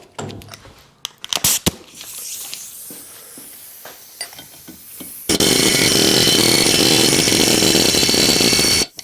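An air hammer works on a Seadoo 951 engine, starting with scattered metallic knocks and clanks, then a loud, continuous rattling hammer burst that runs steadily for several seconds close to the mic.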